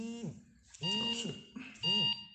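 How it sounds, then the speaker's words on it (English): Phone alarm beeping in short repeated bursts of stacked electronic tones, loud and close, two clear rounds with a pause between, with a voice briefly heard around it. "Fucking alarm going off, turn that shit off."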